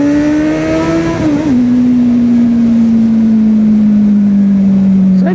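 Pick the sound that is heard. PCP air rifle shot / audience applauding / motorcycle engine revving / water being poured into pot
motorcycle engine revving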